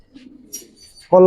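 Giribaz pigeons give a soft, low coo at close range for under a second, then a voice starts abruptly and loudly.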